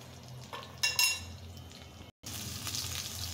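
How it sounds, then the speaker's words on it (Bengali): Fish frying in a pan of oil, a moderate sizzle with clinks of a utensil against the pan and a brief dropout before the crackle resumes a bit louder. "মাছটা ফ্রাই করা হয়ে গেছে, আমি এখন উঠিয়ে নিচ্ছি।"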